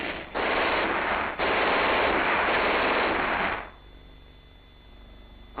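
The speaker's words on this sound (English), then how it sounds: "As the indirect fires are lifted, the platoon machine guns increase their rate of fire on the enemy" Platoon machine guns fire during an infantry rifle squad attack, producing a loud, dense burst of rapid gunfire that pauses briefly, resumes for a couple of seconds, then cuts off to quiet background.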